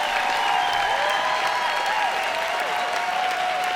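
Sustained applause from a live storytelling slam audience, dense clapping with some crowd murmur, loud and even throughout with no pauses.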